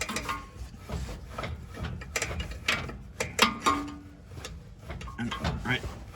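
Ratcheting clicks from a star adjuster wheel being turned back and forth on the rear drum brakes of a 1986 Ford F150, close up and irregular, with faint rubbing and tool handling between bursts.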